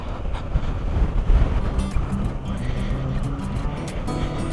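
A 2021 Kawasaki Versys 650 on road tyres rides through a puddle on a Cornwall trail, the engine droning loudly under a broad, rushing wash of splashing water and wind noise.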